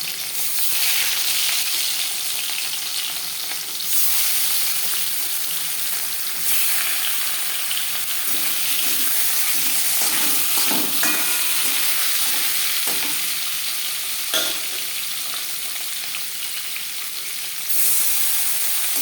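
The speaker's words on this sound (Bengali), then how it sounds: "তেল আমি গরম করে নেব পরিমাণ মতো রিফাইন্ড অয়েল গরম করে নিয়েছি এবার দিয়ে দেবো ম্যারিনেট করে রাখা মাছ" Marinated fish fries in hot refined oil with a loud, steady hissing sizzle and a few brief bursts of crackle.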